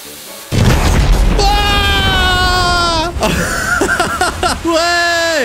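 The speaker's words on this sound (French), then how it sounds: "Si je mets une fontaine au milieu des bouteilles de propane." In a video game, a firework fountain set among propane bottles at a gas station roars loudly and without a break, with whistling tones rising over it and a voice shouting excitedly on top.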